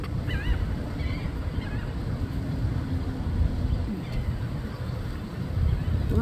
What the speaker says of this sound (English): Bunches and bunches of seagulls are flying around.